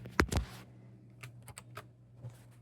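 Keys on a computer keyboard are pressed for copy-paste shortcuts: two quick loud clicks at first, then a scattering of softer, lighter taps spread out afterward, close by in a quiet room.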